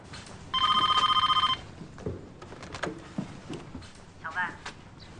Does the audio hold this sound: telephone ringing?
yes